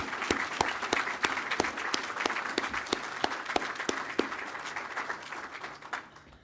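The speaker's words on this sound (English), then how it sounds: "I'd like us to give a round of applause to all of the physicians." Audience applause for physicians at a Xavier Ochsner College of Medicine announcement, a crowd clapping steadily with sharp individual claps standing out, loud and sustained before tapering off near the end.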